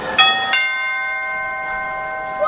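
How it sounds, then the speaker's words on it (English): A small polished toy bell is struck twice in quick succession, each strike followed by a bright, sustained ringing tone that slowly fades while the bell hums on alone. "Big Ears has been polishing Noddy's bell for him."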